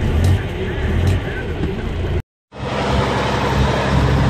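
An old Tasmanian salmon delivery van pulls away on a road, its engine a steady, fairly loud rumble that cuts out briefly and then returns.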